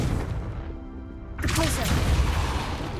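Confringo blasting spell explosion in the Hogwarts Legacy video game, a sudden loud burst that turns into a rumbling, crackling roar and fills the second half, after a voice calls out beforehand.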